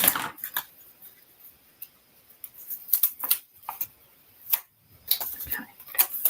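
Cardstock being cut on a paper trimmer at a craft table, heard as a few soft, close, crisp ticks and slicing strokes spaced apart in quiet surroundings.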